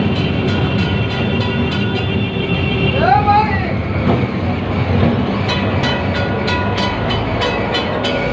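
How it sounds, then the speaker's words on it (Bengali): A tram rolls along Lenin Sarani in Kolkata, its steady rumble broken by rhythmic clicks, a brief wheel squeal and a bell-like chime, with street noise and a voice talking over it. "এগিয়ে যাচ্ছে ট্রাম"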